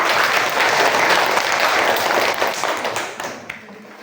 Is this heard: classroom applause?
yes